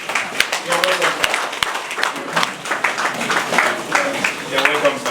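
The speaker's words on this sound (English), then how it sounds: "Can we clap for them?" An audience at an Owerri poultry scheme gathering claps for guests from Zenith Bank, with sharp individual claps and ragged applause running under a voice.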